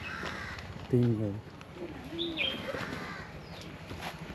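A bird calls with a short harsh caw at Pilikula Biological Park in Mangalore. Fainter chirps follow amid outdoor ambience, and people talk nearby.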